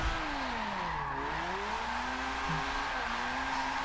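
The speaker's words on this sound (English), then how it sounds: "we can still kind of drift here in 7" A car drifts in Forza 7, its tires squealing continuously with wavering pitch over a steady engine drone, close and loud, with no talking.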